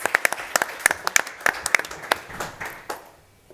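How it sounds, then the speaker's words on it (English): Brief audience applause at a deep tech innovation panel discussion, crisp close claps from a modest crowd, fading out over a few seconds. "Big applause."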